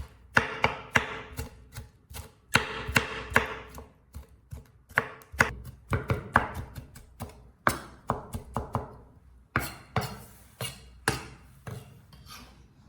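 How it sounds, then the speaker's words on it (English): A knife finely chopping tomato flesh on a cutting board, with steady rapid taps in irregular bursts and brief pauses, close and crisp with no talking. "Now finely chop the tomato flesh."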